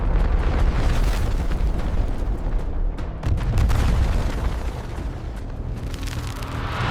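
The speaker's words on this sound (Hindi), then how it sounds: "यह धमाका हिरोशिमा के एटम बम से 10 अरब गुना ज़्यादा शक्तिशाली था।" A massive asteroid impact explosion is heard as a loud, sustained roaring rumble with deep booming surges that gradually ease, with no talking.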